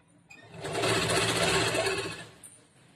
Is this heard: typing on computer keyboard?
no